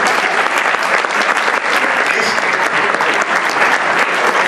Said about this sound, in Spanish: Aplaudid, aplaudid.